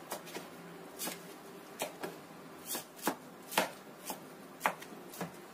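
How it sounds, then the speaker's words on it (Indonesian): A knife chopping drained rice vermicelli finely on a board: about a dozen crisp, fairly even cuts, close and clear with no talk. "bihun atau soun yang sudah kita tiriskan atau kita saring, kita rajang halus ya"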